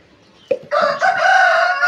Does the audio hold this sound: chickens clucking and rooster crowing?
yes